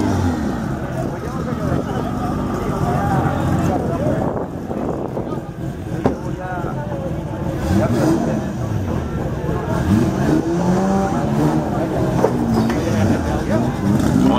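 A turbocharged Honda Civic drag racing at Great Lakes Dragway during an import drag event, a sustained loud engine roar with rising pitch sweeps throughout, under a track announcer's voice over the PA.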